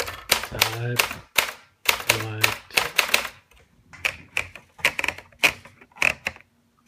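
An Olympia Splendid 66 typewriter clacks in crisp, close keystrokes, first under a man's speech and then alone as a quicker run of evenly spaced strikes.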